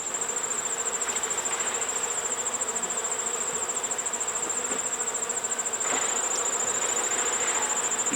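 Honey bees in a densely populated hive give off a steady, dense buzzing hum up close, continuous and unbroken with no talking.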